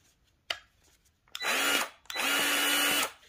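A Milwaukee M18 2646-20 cordless grease gun motor runs on a test at range one, two steady whirring bursts of about half a second and a second, close and loud, after a sharp click.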